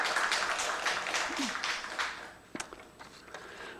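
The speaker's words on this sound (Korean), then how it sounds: "우리 하나님께 영광의 박수를 크게 올립니다" Church congregation applauding during a Korean Sunday service, a burst of scattered clapping that fades out into a few last isolated claps.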